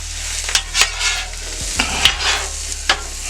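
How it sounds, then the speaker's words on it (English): Zucchini, yellow squash, mushrooms and onions sizzle on a hibachi-style steel griddle, a steady close hiss broken by several short clinks and scrapes of a utensil against the metal. "I went ahead and put my vegetables on, my zucchini, my yellow squash,"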